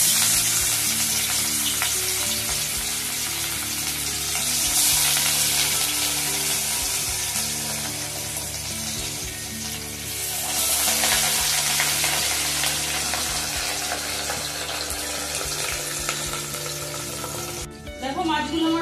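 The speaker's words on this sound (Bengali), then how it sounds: "তেলটা আমার গরম হয়ে গেছে। এবার আমি মাছগুলো দিয়ে দেবো" Katla or Rui fish pieces frying in hot mustard oil for Bengali kalia, a loud continuous sizzle with occasional stirring and clatter, steady throughout with brief surges.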